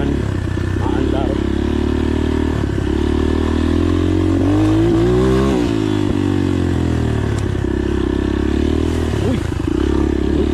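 A motorcycle engine drones loudly and continuously while riding with engine braking in gear, the pitch rising and falling slightly under rattling and road noise.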